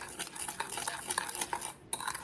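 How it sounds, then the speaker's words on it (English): A spoon stirs sugar and cornstarch together in a bowl for an apple crisp, making a quick continuous scraping and clinking with a brief pause, close and fairly quiet. "Let that sugar grind all them little clumps up of the cornstarch there."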